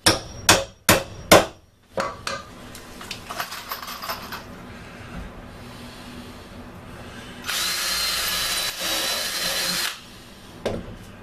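Several sharp hammer blows land in quick succession, then a power drill whirs for a few seconds among scattered tool clatter while building a reclaimed lumber workbench.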